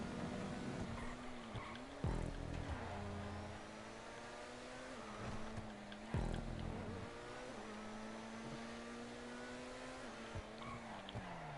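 Video game car called the Cyclone sliding with low grip, a sustained engine drone with tonal whine and recurring tire-skid screeches under it, loud and continuous with brief bursts around a few moments.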